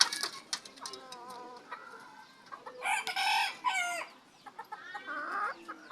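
Young bantam chickens, five-month-old siblings, cluck and call in a series of nearby clucks and squawks. A louder burst of calling comes midway, over faint background noise.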